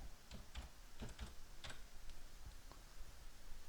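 Typing on a computer keyboard, a run of quick, light key clicks in an irregular rhythm, close and fairly quiet, with no talking.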